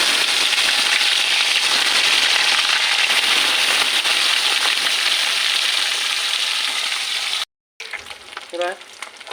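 Parshe fish frying in hot oil with a loud, dense crackling sizzle that runs for several seconds, then cuts off briefly before quieter sounds resume.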